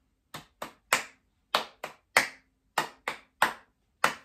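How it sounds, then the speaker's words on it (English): Ten sharp hand claps in an uneven rhythm, crisp and close, with quiet gaps between them and no talking. "so clapping."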